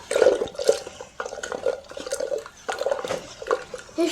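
Cold water poured into a thick homemade summer drink, giving a close, uneven trickle with small clinks and splashes in quick bursts, with no talk over it.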